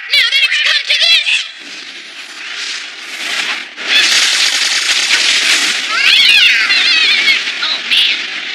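Cats meow and yowl in an anime scene, several drawn-out wavering cries overlapping, loud and close, with a shrill caterwauling chorus that swells in the second half.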